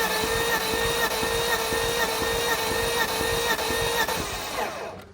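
An old 325ci engine cranks over steadily on the starter during a compression test, a loud even rhythmic churning of repeated compression pulses that runs for several seconds, then cuts off.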